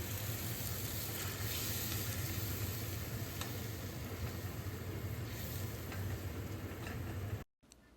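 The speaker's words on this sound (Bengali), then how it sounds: "এবার মশলাটাকে একটু ভালো করে কষিয়ে নেব।" Spice paste, ground with water, sizzles and fries in a pan on the stove, a steady close hiss that continues evenly throughout before cutting off abruptly near the end.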